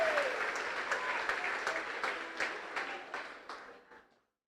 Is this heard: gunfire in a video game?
no